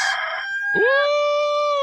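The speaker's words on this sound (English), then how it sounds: "It's the rooster. Cock-a-doodle-doo." Rooster crowing sound effect played on a morning sports radio show: one long, loud cock-a-doodle-doo with a rising start and a sustained, slowly falling tail, close and clear, with no talking over it.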